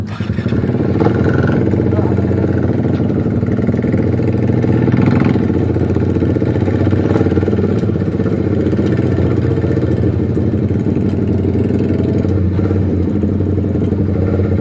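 A Suzuki GSX R150 motorcycle with an R9 aftermarket exhaust runs steadily on a test ride, its engine drone close and constant with mechanical clatter throughout.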